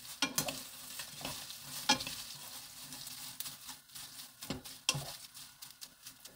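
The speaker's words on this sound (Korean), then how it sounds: "노릇노릇 볶아졌잖아요" Dried chili peppers are stir-fried in a pan, giving a soft continuous sizzle broken by scraping stirs and light clicks as the pieces are tossed, quiet and close, with no talking.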